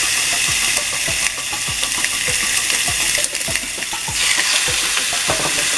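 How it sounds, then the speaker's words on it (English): Chicken breast sizzles and crackles steadily on a hot grill with canola oil, with a constant hiss and scattered pops, close up and with no voices. "But I'm going to go ahead and grill my chicken."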